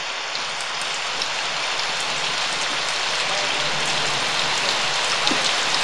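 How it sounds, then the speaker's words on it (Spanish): Steady heavy rain pouring down in the Brazilian Amazon rainforest, a dense continuous hiss of drops striking leaves and surfaces, close and loud throughout with no break. "es muy probable ser sorprendido por la lluvia"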